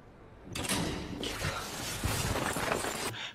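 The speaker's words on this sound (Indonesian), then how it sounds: "terdengar suara Ivan membuka pintu" A door being opened, a muffled, rumbling scrape of movement lasting a few seconds, faint and broad, with no voices.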